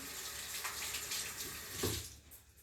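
Tap water runs close by as hands are washed beneath it, a soft, steady splashing that rises briefly near the end.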